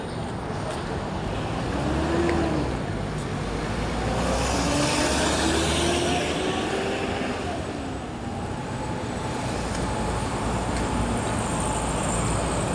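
Road traffic heard from inside a moving jeepney: a continuous, fairly loud rumble of engines and tyres, with vehicles swelling past and a faint whining tone drifting up and down over the steady wash of noise.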